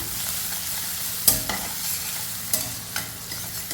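Food sautéing in a pan, a continuous sizzle broken by several sharp spatula knocks and scrapes against the metal, close and clear with no talking.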